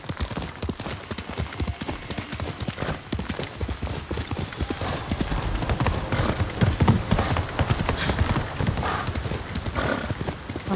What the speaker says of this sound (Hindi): भगोड़े घोड़े।